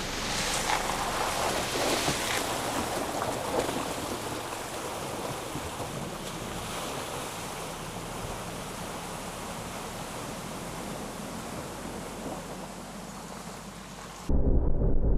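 An Isuzu MU-X 4x4 pushes through a creek crossing in a Queensland tropical rainforest, a steady broad wash of rushing, splashing water and muffled engine noise that holds evenly for the whole stretch, then cuts off sharply near the end.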